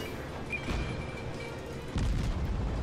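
Naval guns firing in the World of Warships game as a Katori cruiser engages, a muffled boom landing over a constant rumbling backdrop, followed by a heavier thud near the end, moderately loud.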